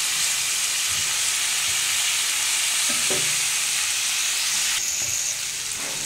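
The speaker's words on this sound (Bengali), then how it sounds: "এঁচড়গুলো একটু ভেজে নেব" Pieces of green jackfruit fry in hot oil with a steady, loud sizzle throughout, broken by a few faint clinks of a stirring utensil.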